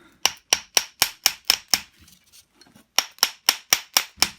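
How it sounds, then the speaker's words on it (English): A brass hammer striking a seized three-jaw lathe chuck, two bursts of evenly spaced sharp metallic blows, six or seven in each, separated by a brief pause, close and loud. "This is a brass hammer"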